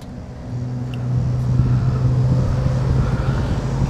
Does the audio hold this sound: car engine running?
yes